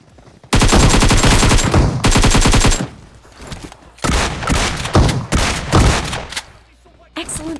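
Gunfire from AKM and DBS guns in the PUBG video game: long, loud automatic bursts up close, then a pause, followed by more sharp volleys and scattered shots.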